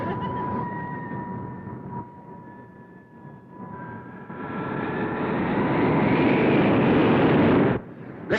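A heavy bus engine drones and builds to a loud, strained roar, then cuts off abruptly near the end.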